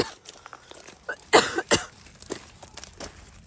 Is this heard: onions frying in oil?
no